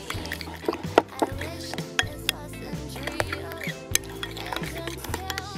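A utensil stirs yogurt with salt in a bowl, giving soft scraping and intermittent sharp clinks against the dish, close and quiet, under faint background music.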